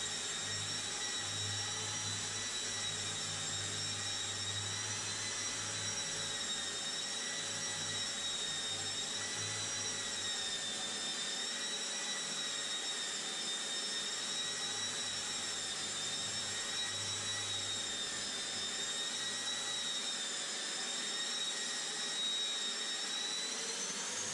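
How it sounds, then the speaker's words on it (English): A drywall sanding machine working over a skim coat, giving a loud, steady whining mechanical drone with faint tonal hum, continuous and close with no breaks or speech. "So after I've given it a sand with the machine, I just like to go around the edges."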